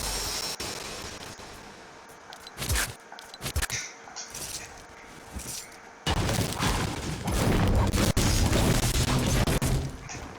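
Gunfire and impacts from a video game, where a silenced pistol is fired at an enemy: a few sharp shots and crashes in the first half, then a louder, denser burst of action noise.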